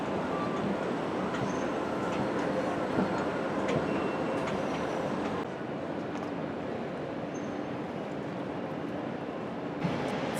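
Train noise in Berlin's main railway station, a continuous rumbling and rolling drone of rail cars with faint squeals and clicks, moderately loud, shifting to a slightly quieter hum partway through, no speech.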